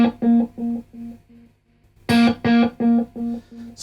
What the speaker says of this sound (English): So I'm getting 2 fairly strong delays, and then it's kind of fizzling out.